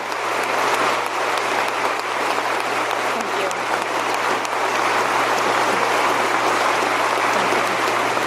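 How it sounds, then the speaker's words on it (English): Sustained, dense applause from a large audience at a state legislative session, steady and loud throughout with a faint low hum beneath. "Everyone's clapping."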